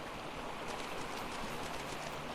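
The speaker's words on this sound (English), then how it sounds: "The double waterfall." A double waterfall in Ark Survival Ascended, a faint, steady rush of falling water with a soft, even texture and no voices.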